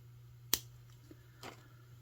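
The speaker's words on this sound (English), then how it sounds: "I'm going to cut off my extra wire." Extra beading wire snipped off a necklace with a single sharp, close click of a cutter, followed by a faint softer snip a moment later against a low background hum.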